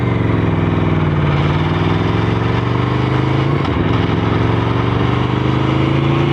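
A motorcycle engine idles loud and close with a steady, continuous rumble and no speech, during a ride around town.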